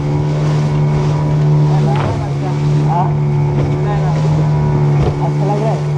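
A motorboat off the coast of Goa runs with a loud, steady engine drone over choppy water. Wind buffets the microphone, and voices are heard over the engine.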